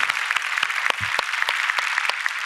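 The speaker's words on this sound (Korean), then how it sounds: "우리 하나님께 영광의 박수 올려드립니다" Church congregation applauding together in a worship service: a dense, steady wash of clapping lasting a couple of seconds, with no speech over it.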